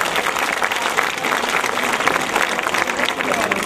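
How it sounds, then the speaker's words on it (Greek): Warm audience applause at a dance show, loud and sustained clapping from a large crowd filling the hall without a break. "Είμαι σίγουρη ότι έχετε να μας δώσετε το θερμότερό σας χειροκρότημα."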